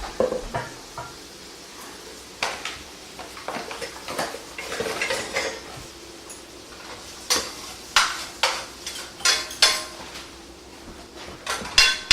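Onions go into a pan during home cooking, followed by a run of clanks and knocks from pots and utensils, sharp irregular metallic hits growing louder and denser toward the end, with a soft sizzle beneath and no talking.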